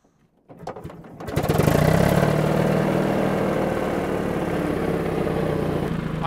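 Old farm tractor engine cranks with a few sputters, then catches and settles into a loud, steady running chug close by, without talk.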